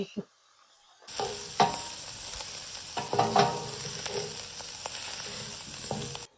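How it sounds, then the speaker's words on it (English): Chicken sausage sizzles loudly in a hot pan of olive oil, a steady bright crackle with occasional louder pops, starting abruptly after a brief quiet moment. "I'm going to add the sausage and get that browning. Yes. My favorite part. Listen to that sizzle."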